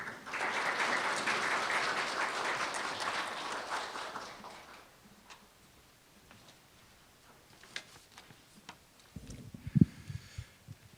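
Applause at the opening ceremony of an academic conference marking an institute's anniversary, a full crowd clapping for about four seconds that then fades into a quiet room with scattered small knocks and shuffles.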